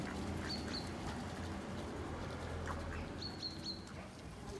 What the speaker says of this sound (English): Chatsworth ducks.